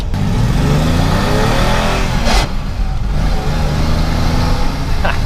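A BMW E30 with a rewelded body revs hard close by, its engine note rising and swelling loudly for a few seconds before settling into a steady, rough mid-range drone, with no voices.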